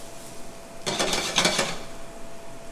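Green beans tossed in a pan while searing alongside fish, a short burst of rattling, clattering sizzle in the middle, close and moderately loud over a faint kitchen hum.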